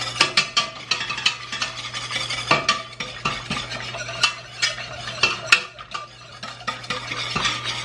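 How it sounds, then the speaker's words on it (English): A whisk clatters and scrapes rapidly against a pot as clumping spices are beaten in, a quick irregular series of close metallic ticks and swishes over a low steady hum, with no talking. "I'm going to switch, I think, to my whisk with this"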